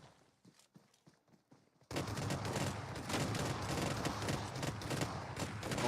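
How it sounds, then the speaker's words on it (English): Rapid burst of shotgun blasts during a video game tournament match, loud, dense and continuous after a brief stretch of quieter scattered shots and footsteps. "Oh my goodness, just the spree of shotguns."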